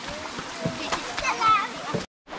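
Children splash about in a small pool of water dammed off to make a swimming pool, a steady wash of splashing and sloshing with kids' voices mixed in, then a brief drop to near silence at the end.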